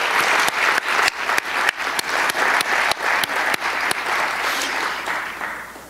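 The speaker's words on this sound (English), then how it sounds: "Let's give them a round of applause" A crowd at a city tribute to Martin Luther King Jr. applauds loudly and continuously, with a few sharp, distinct claps standing out above the steady wash before it eases at the end.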